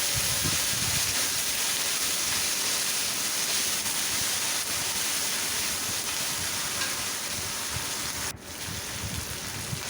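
Ginger-garlic paste and salt fry in hot oil for a boal fish and potato curry. A steady, close broadband sizzle fills the whole stretch, dipping briefly near the end before resuming, with no talking.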